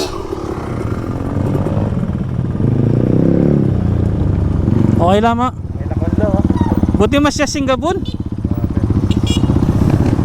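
A motorcycle engine idles and revs nearby on a trail near Mabalacat, Pampanga, with a steady rattling throb, rising in bursts, while people talk over it.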